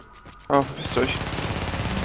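Gunfire in The Division during a German-language group PvP session in the Dark Zone: a sudden loud burst of shots after a quiet half second, then rapid continuous firing mixed with game noise.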